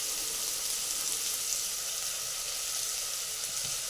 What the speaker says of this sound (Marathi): असं छान त्याला फ्राय होऊ द्यायचं।